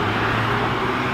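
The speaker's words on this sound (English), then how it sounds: "I get a lot of traffic noise." Steady road traffic from passing cars rumbles continuously in the background at a field where someone is metal detecting. It forms an even, unbroken wash of noise with no clear single vehicle standing out.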